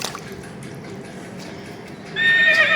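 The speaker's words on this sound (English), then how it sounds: "Next one animal is horse." A horse neighs in a short, bright whinny near the end, preceded by low background rustle and faint clatter; loud and close, alone without talk.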